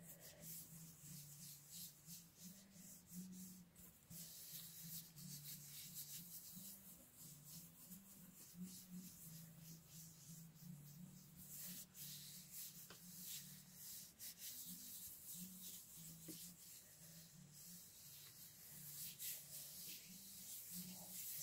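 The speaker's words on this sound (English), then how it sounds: "taking a print by really pressing and rubbing really hard on this, making sure I go to all the edges there" Hand pressing and rubbing cardstock hard over an acrylic-painted gel plate to pull a print, a soft continuous scuffing that runs quietly throughout.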